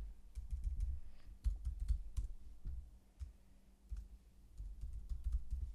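Keystrokes clatter on a computer keyboard as a password is entered, irregular bursts of close clicks with brief pauses, no talking.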